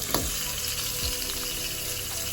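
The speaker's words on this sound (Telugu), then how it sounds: "ఇప్పుడు లాస్ట్లో చికెన్ వేస్తున్నాం" Chicken added to a frying pan of fried masala for Telangana chicken curry, giving a steady, close, loud sizzle and frying hiss with a couple of brief stirring knocks.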